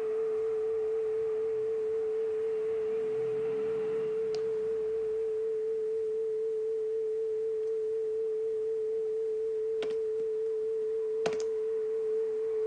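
A synthesized theremin-style tone built in Reaper holds a steady pure pitch while an LFO gently modulates its gain, with a few faint clicks along the way.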